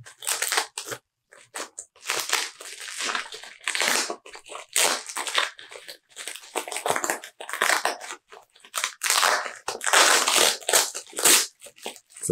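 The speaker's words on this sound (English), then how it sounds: "you can see it's a pretty thin bubble wrap in here" Thin bubble wrap crinkles and crunches in bursts as it is handled while unboxing comics, close and loud, with irregular crackling pulses separated by brief pauses.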